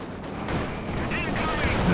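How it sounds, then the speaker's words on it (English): Company of Heroes 2 battle audio carries a dense rattle of machine gun and anti-tank gun fire in overlapping bursts under a busy mix, while a commentator talks over it. "Trying to maybe get the machine gun and the AT guns."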